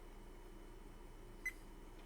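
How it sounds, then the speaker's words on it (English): A single short electronic recording beep from a Brave 6 Plus action camera sounds once over a faint, steady background hum in an otherwise quiet room. "Unfortunately, the beep is the same."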